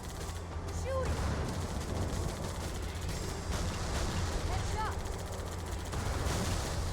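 Gunfire aimed at a Wraith tank in the video game Halo 2, a loud continuous barrage of shots over a busy battle din, with brief game voices cutting through.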